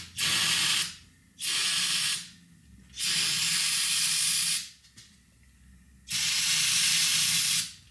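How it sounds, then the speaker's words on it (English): Four sharp hissing bursts of aerosol carburetor cleaner sprayed into a Polaris Indy XLT 580 snowmobile engine, each lasting about a second with short pauses between, close and steady over a low background rumble. "I'm gonna just spray carb clean into it"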